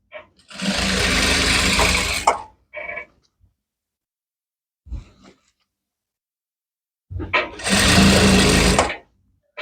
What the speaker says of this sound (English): So I'm just going to be sewing all the way, like I said.